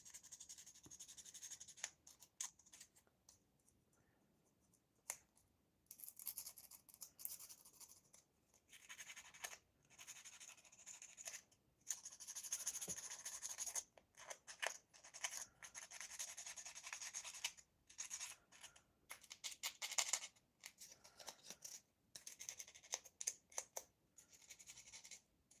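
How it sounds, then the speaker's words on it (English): Close, quiet scrubbing strokes of 400-grit sandpaper tapering the ends of an injection-molded plastic part from a Trumpeter PLA Navy Type 054A frigate model kit. The strokes come in irregular bursts separated by short pauses. "I'm going to grab some 400 grit, and I'm just going to sand off and taper the ends here."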